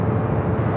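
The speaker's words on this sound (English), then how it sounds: "we still have those two heavies going to be taking off on the south side" Heavy jet airliners on the south side at Los Angeles International Airport, a low, continuous engine roar that fills the short stretch at steady loudness.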